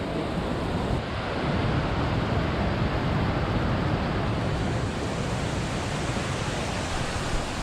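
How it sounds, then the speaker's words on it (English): Ried Falls, a waterfall near Skagway, Alaska, roars as a steady, loud broadband rush of falling water heard up close, continuous and unbroken with no talk over it. "It was real cool to get up close to a waterfall"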